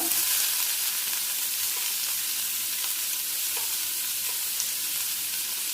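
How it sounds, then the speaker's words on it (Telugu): Chana dal and cumin sizzle steadily in a hot pan with onion, a soft continuous frying hiss with faint stirring clicks and no talk. "కొంచెం పచ్చిపప్పు, జీలకర్ర వేగనిద్దామండి."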